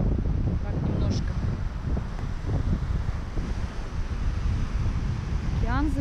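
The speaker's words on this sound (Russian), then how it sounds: "Ветер, наверное, будет плохо слышно." Wind blows over the ocean shore at sunset, a constant rushing roar that buffets the microphone, with surf washing underneath and a brief whistle-like tone near the end.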